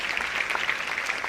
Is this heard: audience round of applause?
yes